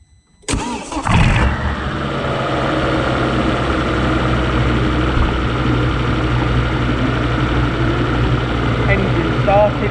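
A Volvo V70 engine cranks and catches, then settles into a steady, loud idle that runs alone and close for the rest of the clip.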